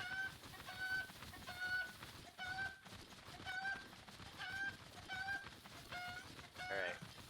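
Cucco chickens in a Zelda Hyrule game at Kakariko cluck repeatedly in short, regular bursts over a busy game soundscape, moderately loud and close.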